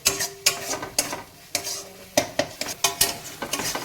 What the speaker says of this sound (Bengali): নেড়ে যেতে হবে বারবার এই মিশ্রণটি আমরা ততক্ষণ পর্যন্ত নাড়তে থাকবো যতক্ষণ না এই মশলা থেকে তেল ছাড়ছে